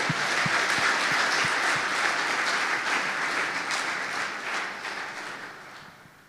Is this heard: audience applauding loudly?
yes